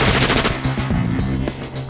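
A KRISS submachine gun fires full auto at a small arms training range, a loud rapid burst of close shots rattling in quick succession over a couple of seconds.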